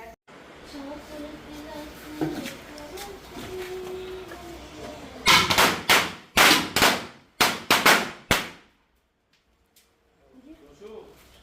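Diwali firecrackers bursting close by, a rapid burst of about seven sharp loud bangs in quick succession after children chatter and shout, then near silence with faint voices.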